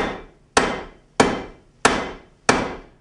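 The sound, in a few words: hammer striking an autoclaved aerated concrete block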